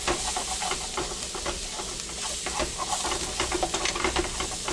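Seasoned chicken with pepper, garlic powder and salt sizzles steadily in a hot pan while a utensil stirs and scrapes in rapid, continuous strokes, close and even.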